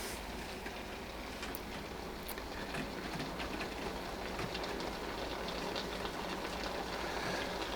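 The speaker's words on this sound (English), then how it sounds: "That noise is the little bit of water that dripped on it from under the pot" Drops of water sizzle on the hot heating plate of a coffee machine being used to make tea, giving a steady crackling hiss throughout with no voices.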